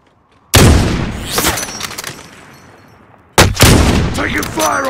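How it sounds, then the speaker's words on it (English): Gunfire in Call of Duty: Modern Warfare, with two loud bursts of shots and booming impacts: one just after the start that rings out and decays, then another sharp volley near the end. "Taking fire over here!"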